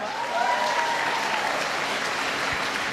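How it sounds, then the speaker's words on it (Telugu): Audience applause at a business leader's success talk, a steady dense wash of clapping that holds at even loudness for about three seconds with no voices over it. "క్లాప్స్ లేవా?"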